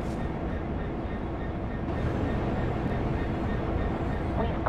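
A Class 66 diesel locomotive on a rescue move out of Reading Depot in Train Sim World 2020 gives a steady, moderately loud rumble with faint rail clatter, continuous throughout, with a voice talking over it.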